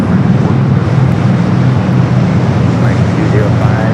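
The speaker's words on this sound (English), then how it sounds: "UPS Flight 903 heading to Louisville, 767 at 300ER up next for takeoff on the 25 right" UPS Boeing 767-300ER taking off from runway 25 right at LAX, a loud, steady jet engine roar with broad rumble holding throughout, under faint background voices.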